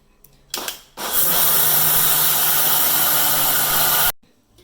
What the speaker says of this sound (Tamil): உளுந்து அரைச்ச அதே சாரில் கொஞ்சம் கொஞ்சமாக அரிசி போட்டு அரைச்சி எடுக்கணும்.